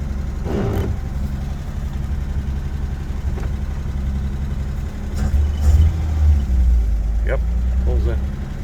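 A 1950 Plymouth Special Deluxe two-door's engine rumbles low and steady as it is shifted into gear, swelling slightly as the car pulls away, heard close with a few faint clicks.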